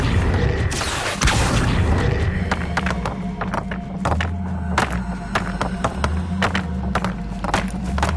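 A spell being cast in the Hogwarts Legacy video game gives a loud booming whoosh, followed by a run of sharp thuds and clicking mechanical impacts over a low droning game soundtrack.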